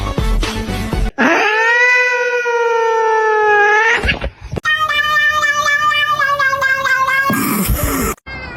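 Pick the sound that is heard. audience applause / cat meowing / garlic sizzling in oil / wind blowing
cat meowing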